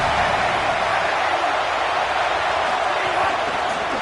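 Steady roar of a stadium crowd cheering on third down in a college football video game with the Buckeyes facing the Terrapins, a dense continuous wash of noise with no clear peaks.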